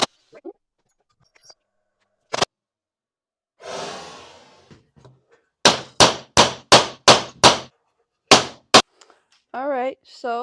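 A hammer strikes metal in a fast series of sharp, loud blows, eight or so in a row with a couple of isolated hits before and after, near a Ford flathead straight-six engine, with breathy sighs and a brief warbling tone between.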